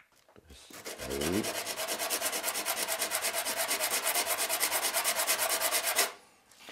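Steady back-and-forth sanding of a cane musical instrument, flattening a section straight before fitting a reed; a close, rapid rhythmic rasp running continuously for about five seconds after a brief knock and scrape.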